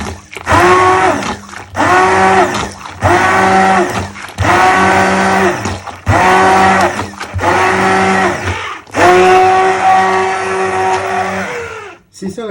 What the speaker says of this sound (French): La soupe est prête, on n'a plus qu'à la mixer vigoureusement pour que ça devienne un bon velouté.